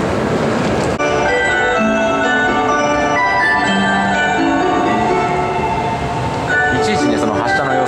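Sunrise Express sleeper train at a station platform, with a steady loud rumble and tonal hum of the train and station noise throughout, plus a platform announcement voice over it.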